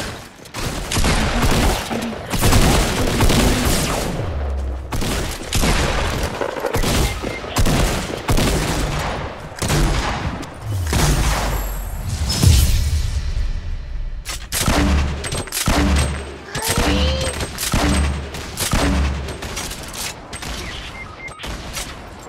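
Rapid gunfire in the video game 14 Days crackles in dense, loud bursts of sharp shots, with mechanical clicks and brief gaps between volleys throughout.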